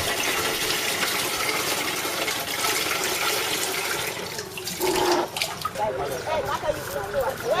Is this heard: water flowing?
yes